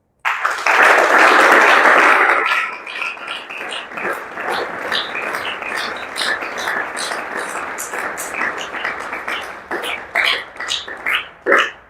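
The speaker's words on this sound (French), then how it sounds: "On acclame le Seigneur." A church congregation at a deliverance worship service bursts into loud cheering and applause, a dense roar for a couple of seconds that settles into scattered clapping and shouts.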